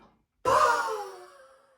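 One sharp, forceful exhale during a bodyflex diaphragm breathing exercise bursts out abruptly after a brief silence, then trails off as the breath empties, close and clear.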